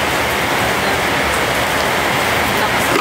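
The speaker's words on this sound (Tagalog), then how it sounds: "Grabe ang ulan na bonite!" Heavy rain pours down steadily, a loud, unbroken hiss of drops pounding a surface close by.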